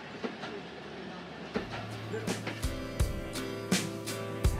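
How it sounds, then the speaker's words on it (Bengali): A train pulls out of Phulbari railway station in Bangladesh, a Panchagarh Express run, with a steady low rumble joined by repeated sharp clacks of wheels over rail joints that come more often as it gathers pace. "আমাদের ট্রেনটি কিন্তু ফুলবাড়ি রেল স্টেশন হতে যাত্রা শুরু করলো।"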